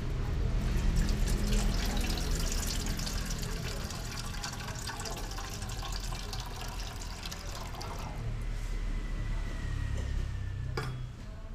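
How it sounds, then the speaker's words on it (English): Water runs continuously from a tap in a kitchen during cooking, a steady splashing hiss at moderate level that eases slightly midway, then swells again before a brief clatter near the end. "This is water."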